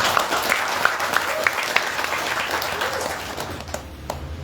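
A short burst of applause from a group, steady clapping with some scattered louder claps, fading slightly toward the end.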